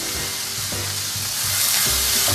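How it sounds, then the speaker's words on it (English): Onions frying in a hot pan give a steady, close sizzle and hiss with no one talking, swelling slightly louder toward the end of the short stretch. "I'm frying some onions."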